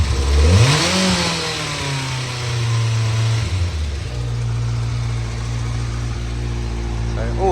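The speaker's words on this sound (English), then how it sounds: "Standard pipes as well, nice and quiet, but still with a bit of a nice note to it. Hear that motor." A 2014 Kawasaki Ninja 1000 ZX1000 motorcycle on standard exhaust pipes is revved once from idle, then settles into a steady, fairly quiet idle, close by.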